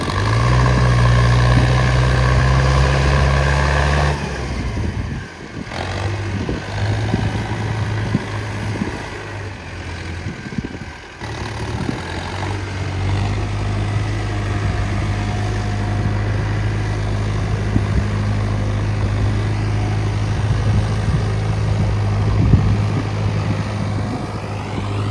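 A tractor engine idles on a muddy farm track, a steady low rumble that dips briefly twice, then settles back into a constant drone with no talking.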